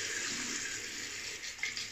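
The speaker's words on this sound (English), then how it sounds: "just added water to the tips of the brush" Water trickles from a tap onto the tips of a shaving brush, a steady close hiss of running water with a slight splash change near the end.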